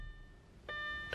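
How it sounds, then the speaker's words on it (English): Warning tone from a 2007 Audi RS4 sounding with the door open, a brief steady electronic beep starting midway through in a quiet cabin, followed by a short click. "I do apologize about the beeping"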